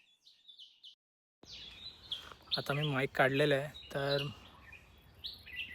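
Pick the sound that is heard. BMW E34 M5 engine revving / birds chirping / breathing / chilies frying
birds chirping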